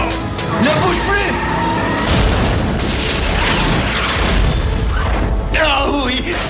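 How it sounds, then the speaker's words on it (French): A cartoon explosion in the animated series Transformers Animated, a loud, dense blast and rumble with crackling debris that swells and lingers, with voices and other effects mixed over it. "ça c'est l'explosion comme je les aime"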